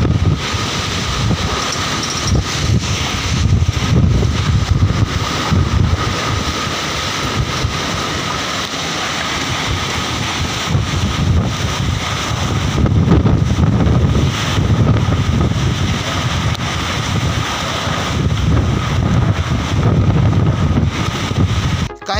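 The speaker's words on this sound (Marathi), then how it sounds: "गारांचा पाऊस बंद होईपर्यंत वादळी वारा आणि तुफानी पाऊस सुरू झाला" Stormy pre-monsoon wind with heavy rain and hail over a town, a continuous loud rushing roar that surges and eases in gusts, buffeting the microphone, with no voices.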